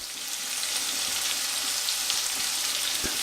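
Roasted and fresh garlic cook in a pot for garlic and onion soup, giving a steady hissing sizzle that swells slightly and holds, with a couple of faint knocks near the end.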